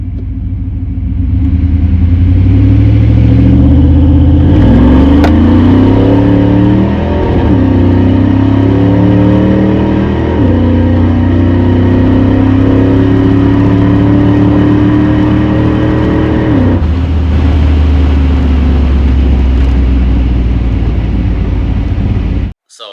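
A boosted, nitrous-fed Ford Lightning truck accelerates hard on a street run. Its engine roars loud and close, climbing through several rising gear pulls with brief dips at each shift, then cuts off abruptly at the end.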